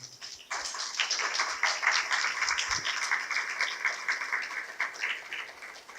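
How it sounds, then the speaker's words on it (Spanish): Steady, fairly faint audience applause fills the room at a university science lecture on cancer cells, a continuous patter of many hands clapping for several seconds with no talking over it. "Pues hay que recibirlo con un aplauso."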